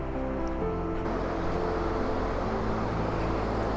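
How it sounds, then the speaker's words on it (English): The Chomrong Kola, a mountain river on the Annapurna trek in Nepal, rushes in a dense, unbroken roar near the crossing, with a faint low hum underneath. "We are about to cross the Chomrong River"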